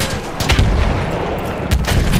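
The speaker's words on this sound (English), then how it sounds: "There's a machine gun!" Machine gun fire in a First World War battlefield game with shock troops, heavy repeated gunshots crackling over a dense, loud battle din with two stronger bursts.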